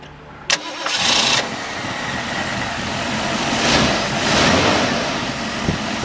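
A 1965 Ford Mustang convertible engine cranks with a sharp click and short starter whir, catches and revs up, then settles into a steady, fairly quiet idle with a couple of brief surges.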